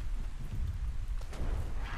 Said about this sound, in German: Weil ich kann meine These aktuell nicht schützen, weil es regnet.